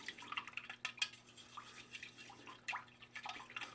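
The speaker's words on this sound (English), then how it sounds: "Give it a good stir." Fertilizer being stirred in a cup, giving a quiet series of light clinks and tapping, liquid-sounding scrapes with a few sharper knocks, close by and soft with no talking.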